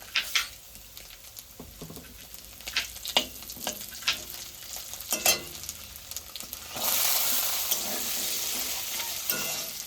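Black cumin seeds, dried red chillies, green chillies and garlic sizzling in hot oil: irregular crackles and pops at first, then a louder, steady frying hiss swells up and holds near the microphone, with no talking.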